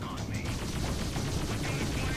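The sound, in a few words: explosion in the video game Freelancer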